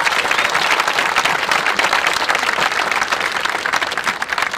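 Loud, dense audience applause at a 2022 commencement ceremony honoring senior chamber singers, sustained, steady clapping from a large crowd, no talk over it.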